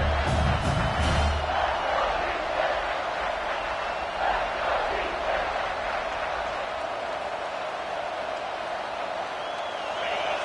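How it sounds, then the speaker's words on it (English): Home crowd at a college football game against UCLA roaring loudly and steadily, a dense wash of cheering that holds for the whole stretch with a brief swell near the start. "how nice is it to have the home crowd going absolutely bananas"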